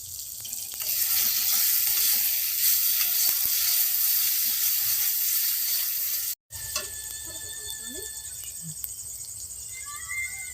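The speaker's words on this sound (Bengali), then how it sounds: "ওকে, মশলাটা কষে নিয়েছি" Spice paste with poppy seeds fries in a pan with a steady, close hiss, broken by a brief silent gap, then quieter sizzling with small clinks of stirring.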